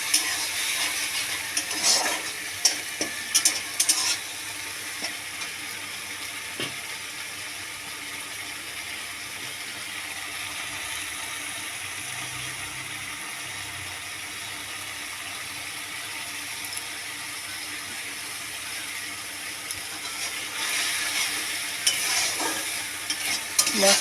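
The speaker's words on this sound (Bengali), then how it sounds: "মশলাটা একটু ভালো করে নাড়িয়ে চাড়িয়ে নেবো" Spice paste sizzles in a kadai while a spoon stirs it over and over, giving a continuous frying crackle with recurring scraping strokes, close and steady throughout.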